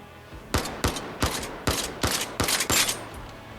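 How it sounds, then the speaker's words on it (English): Seven sharp gunshots in the VR shooter Zero Caliber Reloaded ring out loud and close, fired as a steady string of single shots roughly every third to half second. "we are firing some pretty good clusters"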